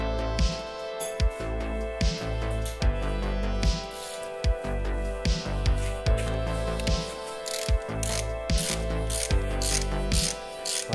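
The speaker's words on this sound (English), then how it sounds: "then you can go with the ratchet and get it tightened down" Ratchet wrench tightening timing cover bolts on a VR6 engine, a steady run of repeated clicking pawl strokes in short bursts, close and clear with no talk.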